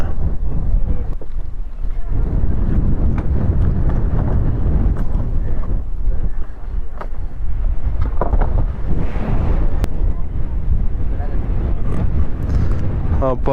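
A motorboat crosses open water toward Analaitivu island, its engine a low continuous rumble mixed with wind buffeting the microphone and water splash, with people talking over it.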